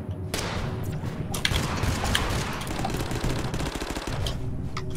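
Sustained automatic gunfire rattles through a shooting video game, loud, close and continuous with scattered sharper shots over a dense din, and no voices.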